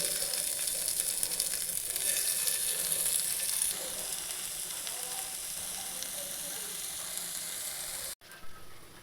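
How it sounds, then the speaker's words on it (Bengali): Vegetables shallow frying in a small amount of white oil on a flat pan, a steady close sizzle and hiss running throughout, easing slightly partway through, then a brief clatter near the end. "খুব সামান্য একটু তেল নিয়েছি হোয়াইট অয়েল দিয়েছি এবার এগুলোকে একটু শ্যালো ফ্রাই করে নিচ্ছি"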